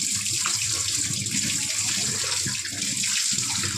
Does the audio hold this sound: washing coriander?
yes